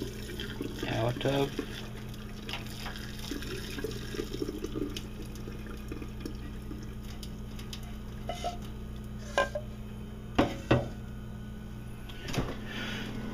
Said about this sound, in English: Going to drain as much water as I can